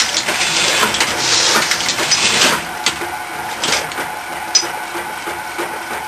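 A letterpress printing press takes a pull, with the impression lever set lighter for this pass. A dense, crunching mechanical rumble runs close and steady for several seconds, broken by a few sharp clacks.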